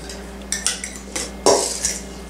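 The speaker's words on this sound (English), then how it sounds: "Let's mix that together until it's combined." A porcupine meatball mixture with Worcestershire sauce and egg is worked in a bowl, giving a handful of sharp metallic clinks and scrapes of a utensil against the dish, close and unaccompanied by speech.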